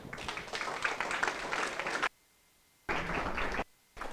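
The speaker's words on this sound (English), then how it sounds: "Please give a big round of applause to Michael Wyant." Short bursts of audience clapping at an event to welcome a speaker, loud and dense, broken by abrupt gaps of silence, with a faint steady tone in the background.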